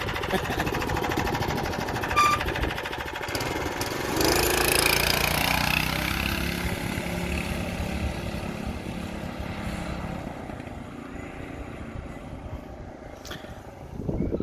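Murray Explorer minibike with a Tillotson 212cc engine being ridden, a steady buzzing small-engine drone that swells as it pulls away, then fades slightly into the distance before returning.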